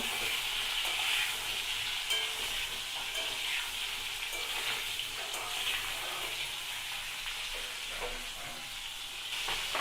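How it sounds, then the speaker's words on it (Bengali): Pointed gourd (potol) fries in a pan, giving a steady, close crackling sizzle with faint stirring that runs unbroken for about ten seconds, with no voices. "পটলটাও ভাজা হচ্ছে"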